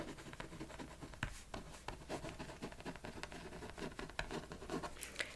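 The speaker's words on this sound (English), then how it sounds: "Let me write that down." Pen writing on paper at close range, with soft irregular scratches and taps in short bursts and no talking over it.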